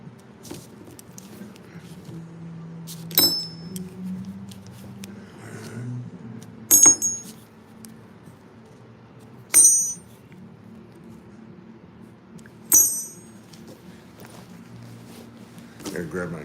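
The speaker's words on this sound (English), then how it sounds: "Gotta grab my keys." Keys jangle as they are grabbed, producing four or five short, bright metallic jingles spaced a few seconds apart over a low, muffled background.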